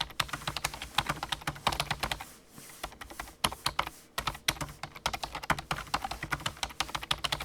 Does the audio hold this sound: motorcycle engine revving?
no